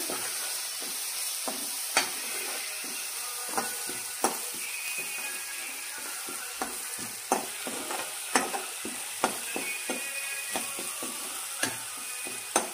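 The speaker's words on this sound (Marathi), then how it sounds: "पेस्ट ह्यात टाकायची, जरा परतून घ्यायची।" Spice paste sautéing in plenty of oil for capsicum zunka, a constant hissing sizzle punctuated by sharp, regular scrapes and taps of a spoon stirring against the pan.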